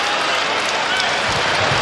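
A basketball arena crowd cheers and applauds loudly at a Celtics–Grizzlies NBA game, a dense continuous roar of clapping and shouting that fills the whole moment.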